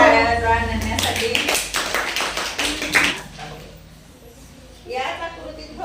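Schoolchildren clapping in a classroom, a quick burst of rhythmic hand claps lasting a couple of seconds, followed by a quieter pause and a teacher speaking.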